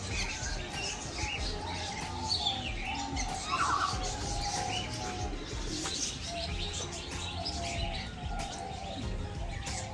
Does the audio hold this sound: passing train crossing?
no